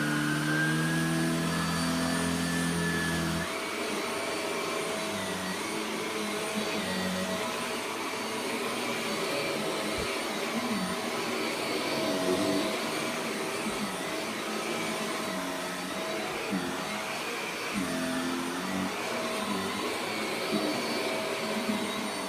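A Shark Powered Lift Away NV680UKT upright vacuum cleaner runs continuously at close range, its steady motor whine shifting in pitch and load after a few seconds as the powered brush moves from carpet onto a contoured rug.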